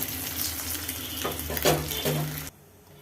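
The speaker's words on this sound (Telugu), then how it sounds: "బాగా గోల్డెన్ కలర్లో ఫ్రై చేసుకుందాం ఫ్రై అయిపోయినాయి గుడ్లు తీసేసుకుందాం" Eggs fry in hot oil with a steady close sizzle and a few stirring scrapes, then the sound cuts off abruptly near the end, leaving quiet.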